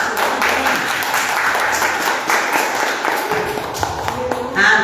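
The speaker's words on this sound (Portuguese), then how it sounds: "Você pode aplaudir ao Senhor em nome de Jesus." Church congregation applauding together during a worship service, a broad steady wash of clapping that holds for the whole stretch, with some voices mixed in beneath it.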